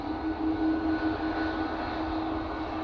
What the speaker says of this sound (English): This Ryanair is off to Dublin.